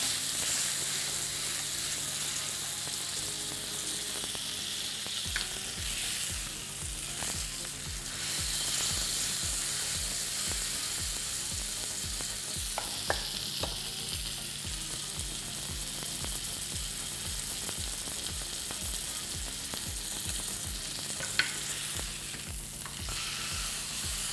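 A rib eye steak sears in a hot pan, giving a steady loud sizzle and crackle throughout with occasional clinks and scrapes as it is pressed down, no talking.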